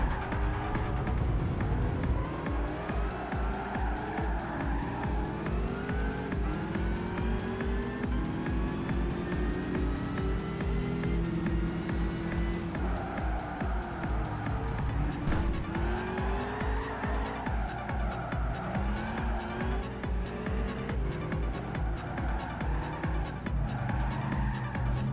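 A racing car in the PlayStation 3 game Gran Turismo revs hard through repeated gear changes, its engine note climbing and dropping, with tire squeal and skidding, loud and continuous throughout.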